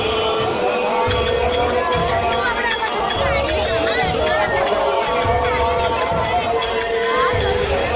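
A dense crowd gathers for the Ganga Aarti in Haridwar on Janmashtami, a steady loud wash of overlapping voices and movement that continues unbroken, with close talk running through the crowd noise.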